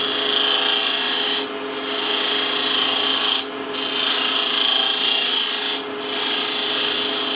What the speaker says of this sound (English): we're going to cut below the centre line and cut a couple of coves in which to decorate